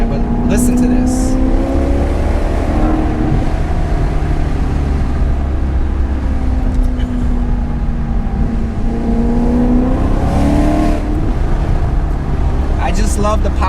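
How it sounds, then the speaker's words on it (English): A 454 HP Maserati GranTurismo Sport V8 accelerating, a loud engine note that rises and falls as it pulls through the revs, heard from inside the car, with someone talking over it. "I just love the power delivery of a V8 engine and the sound of this engine."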